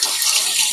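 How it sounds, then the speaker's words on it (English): Running tap water pours steadily as salmon is rinsed off hands at a kitchen sink, a loud, close, continuous splash that fills the whole brief moment. "Let me rinse my hands off"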